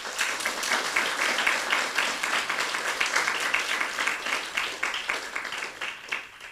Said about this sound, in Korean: 크게 한번 박수해 드립시다